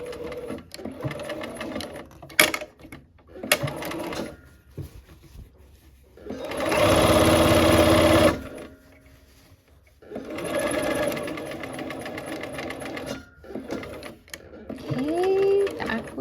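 A sewing machine runs in bursts while stitching quilt seams for a snow-themed quilt, with one long steady run in the middle and shorter runs around it, separated by pauses and handling noises; close and fairly loud.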